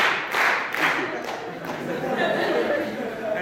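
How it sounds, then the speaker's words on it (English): A lecture audience claps together in a hall, a dense wash of hand claps pulsing roughly in unison with background chatter mixed in. "I want you right now to all try very hard to clap in unison."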